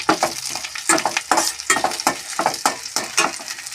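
Onion and bay leaves frying in hot oil for a spiced yogurt chicken curry, with steady sizzling broken by regular stirring strokes close up, and no talking.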